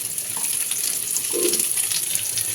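Chillies, garlic, onion and black cumin frying in a pan, making a soft, steady hiss with a faint clink midway.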